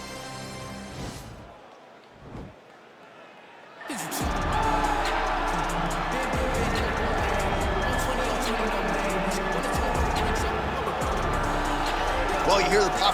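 An arena crowd at a lightweight fight walkout, Khabib Nurmagomedov versus Nate Diaz, swells into a loud, sustained roar and cheering after a quieter opening, with commentators talking over it.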